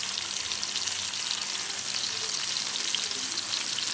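Chicken tikka pieces fry in a pan over a medium flame, giving a steady, close, dense sizzle that holds evenly throughout with no voices.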